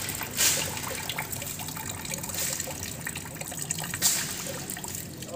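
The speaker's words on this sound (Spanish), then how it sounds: "Corre el agua." Water running in a faint, steady trickle, with a couple of brief splashy gushes over a soft continuous wash.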